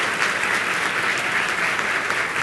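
A crowd claps in a loud, dense burst to welcome São Paulo governor José Serra, applause filling the whole short moment without letup.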